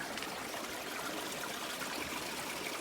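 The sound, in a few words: small trickle of water flowing into rocks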